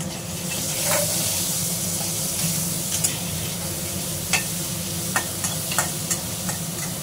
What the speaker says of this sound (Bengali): এটা একটু লবণ হলুদ দিয়ে ভেজে নেব।